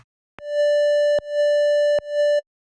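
A plain triangle-wave synth tone from Ableton Operator plays three sustained notes at one pitch, each starting with a soft click, clean and steady with no effects, alone against silence.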